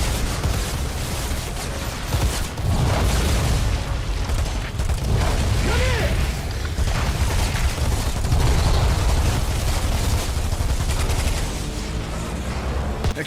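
Explosion in the Outriders video game, heavy booming blasts and rumbling gunfire layered into a loud, dense, continuous roar of battle.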